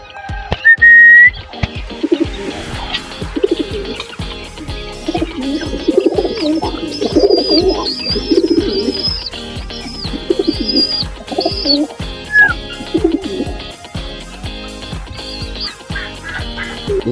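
Several breeder pigeons coo and murmur close by in a continuous stream of soft, overlapping calls, with occasional sharper whistle-like notes mixed in.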